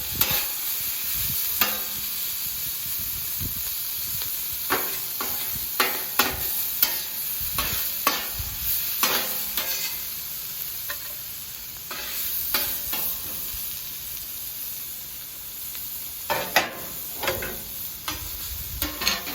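Pork sizzling in a hot pan as reserved juice is poured in, a steady crackling fry with scattered sharp pops and stirring scrapes, close and moderately loud with no talk.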